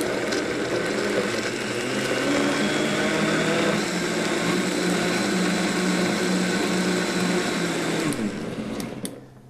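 Food processor whirring steadily as it blends gazpacho ingredients including vinegar, a loud continuous motor drone lasting several seconds before winding down and stopping near the end.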